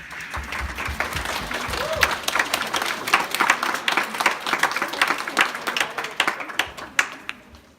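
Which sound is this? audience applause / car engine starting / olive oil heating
audience applause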